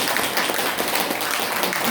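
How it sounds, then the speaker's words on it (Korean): Applause in a Korean lecture on acupressure points, a dense, steady wash of many hands clapping close by, filling the short moment with no pause. "박수."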